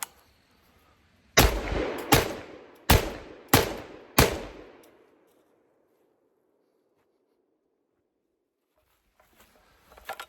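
Five loud, close shotgun blasts from a Scar-style clone shotgun firing Winchester PDX-1 rounds, spaced roughly half a second to a second apart, each with a sharp crack and a trailing echo that fades into quiet.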